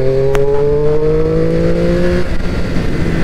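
A loud Triumph Street Triple 765 RS motorcycle engine holds a steady rising whine, then fades into a rougher rumble as it accelerates past while overtaking.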